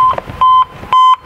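Reversing beeper on a Renault Trafic van sounding loud and close, three evenly spaced electronic beeps in a steady on-off rhythm with short gaps of quiet between them.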